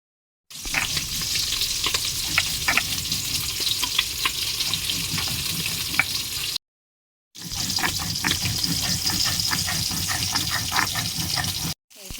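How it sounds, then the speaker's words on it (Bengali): Fish frying in oil makes a continuous, close sizzle with crackling pops, cut off by a brief silent gap partway through before the same steady frying resumes. "আমার মশলা করতে করতে মাছটা ভাজা হয়ে গেছে"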